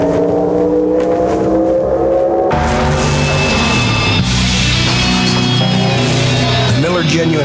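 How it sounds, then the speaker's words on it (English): Miller Genuine Draft Rusty Wallace stock car engine, a loud roaring and revving race engine that surges in abruptly and stays strong throughout, with mixed sound layered over it. "Miller Genuine Draft Rusty Wallace Stock Car."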